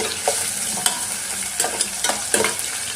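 Green peas fry in a pan for a pea and tomato curry, a steady sizzle under repeated scraping stirs of a spatula, close and fairly loud, with no voices.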